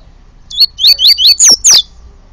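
A caged songbird sings close by: a run of six bright, rapid chirps and whistled phrases, the last two sweeping downward, in a short loud burst with no voices.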